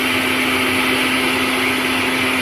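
Salsa whirring in a blender, a loud, even motor drone with a steady hum that runs unbroken from start to finish.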